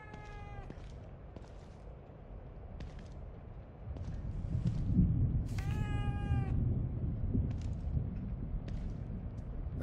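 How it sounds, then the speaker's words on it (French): A cat meows in The Evil Within 2, with a short meow at the start and a longer drawn-out cry near the middle, set over a low rumbling ambient drone and scattered faint clicks. "Un chat?"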